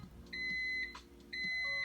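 A microwave oven signals that cooking is finished with two clear electronic beeps, close and distinct, separated by a short pause.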